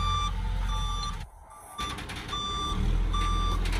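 A heavy dump truck loaded with red dirt backs up, its reversing alarm beeping steadily over a loud, rumbling diesel engine, close by, with a brief dip in the engine noise midway.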